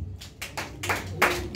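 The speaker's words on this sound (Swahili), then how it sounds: "Pigia Bwana Yesu makofi." A church congregation claps in praise during a sermon, with several distinct bursts of hand claps arriving in an uneven rhythm, fairly close and moderately loud with brief gaps between them.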